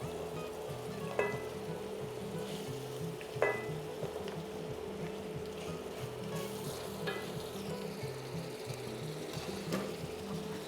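Onions, shallot and garlic softening in a pan, a low, steady sizzle with a few clinks of a utensil stirring against the pan, quiet and continuous throughout.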